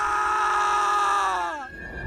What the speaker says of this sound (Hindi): उसकी चीखें पूरे गांव को सुनाई देती हैं।